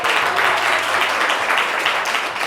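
A studio audience at a live French talk show claps loudly and steadily, a dense wash of applause filling the whole moment with no break.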